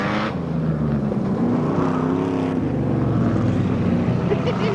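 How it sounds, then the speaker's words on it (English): Several local cars racing on a dirt track in Welsford, New Zealand, their engines droning steadily and loudly together, with a rising and falling pitch as they pass, plus a faint voice in the mix. "a few of the locals take to the dirt track for a race."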